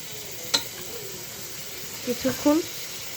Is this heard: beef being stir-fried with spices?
yes